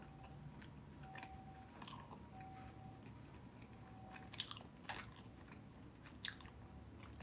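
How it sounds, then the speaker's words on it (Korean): Someone eating pizza, with a few close crisp bites and crunchy chewing sounds scattered over a quiet room hum and faint tonal beeps. "먹기 시작했네. 오랜만에 먹으니까 맛있다."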